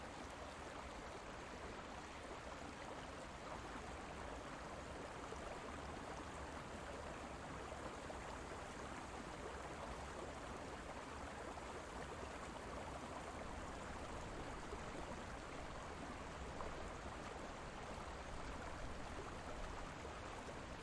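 A cooling fountain in the central square of an Italian villa runs with a steady, even rush of splashing water that does not change from start to finish, with no voices.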